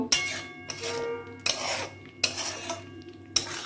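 Chicken curry meat is stir-fried Bengali style in a pan, with four sharp metal scrapes and clanks of a spatula against the pan at a slow, regular pace over a low sizzle.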